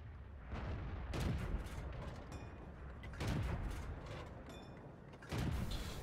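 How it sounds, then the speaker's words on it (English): Tank cannon fire in the online game World of Tanks, with a T71 firing on the Redshire map: three heavy booming shots spaced a couple of seconds apart, each followed by a rumbling tail, with no talk. "Just taking a few shots there at the Waffle 4 that our T-54 lightweight spotted for us"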